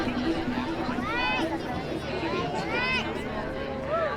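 Crowd chatter on Bourbon Street during Essence Festival, a dense babble of many voices and a few whoops close by, with a nearer voice speaking over it.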